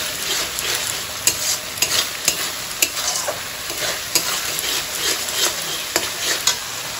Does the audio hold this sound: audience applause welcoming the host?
no